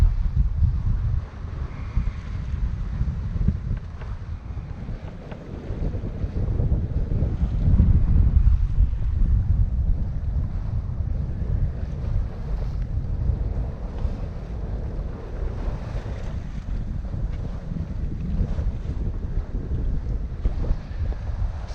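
A sailboat under way in summer, heavy wind buffeting the microphone in a continuous low roar, with water rushing along the hull and no voices.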